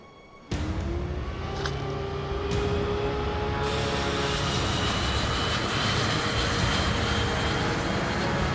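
Training jet engine in the video game Ace Combat 5, starting abruptly after a brief quiet moment and then holding as a loud steady roar with a rising whine and a few metallic clicks.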